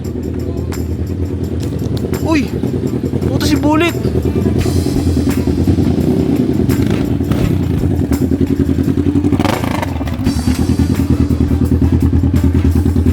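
Motorcycles rev and idle nearby, with engine pitch rising and falling and some clattering thumps, while people talk and call out loudly over them.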